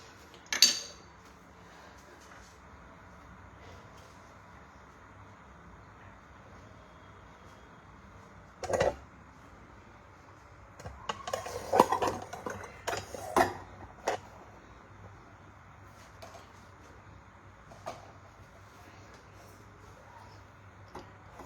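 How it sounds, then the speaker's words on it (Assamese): Clay bowls and dishes handled while a sweet is served, giving a few scattered clinks and knocks, one sharp tap early, then a short cluster of clatter midway, against a quiet room with no talk. "আৰু ইয়াতে মই লৈছোঁ এয়া মাটি বাচন দুটা বাটি তাতে মই ধুনীয়াকৈ পৰিৱেশন কৰি ল'ম"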